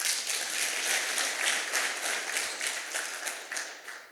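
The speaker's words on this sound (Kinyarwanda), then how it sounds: "Ndabasaba ngo mumpere nyakubahwa meya amashyi" An audience claps for the mayor at a gathering, a dense, sustained round of applause that holds steady for a few seconds and then eases slightly toward the end.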